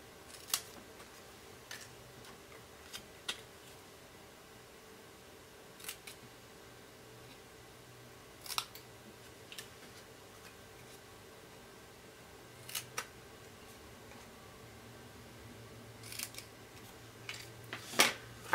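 Scissors snip ribbon ends on a card at a craft table, quiet sharp clicks spaced irregularly over a faint background hum, no talking.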